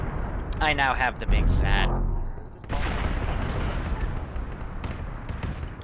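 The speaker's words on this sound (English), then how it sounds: "I can't hear you over the sound of explosions" Booming explosions and gunfire from a Warhammer video game roll on loud and continuous, with a person talking over the blasts in the first couple of seconds.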